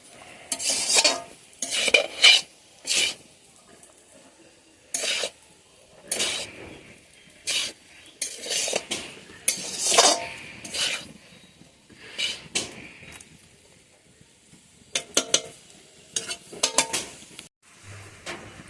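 Fried chicken pieces tossed into egg chow mein in a pan, heard as a string of scraping and clattering utensil strokes against the metal, with a faint sizzle between them and no talking.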